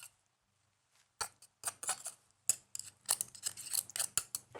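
Opened oysters cut into large pieces with a knife on a board, a silence followed by a quick run of sharp, close chopping clicks and taps in uneven rhythm.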